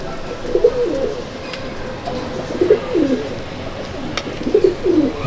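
Madrasi pigeons coo in short rolling phrases, three distinct bursts spaced a couple of seconds apart, fairly close and clear over a quiet background.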